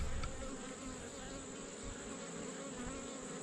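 Honey bees swarm around an uncapped honey frame, making a dense, close, continuous buzz with no voices.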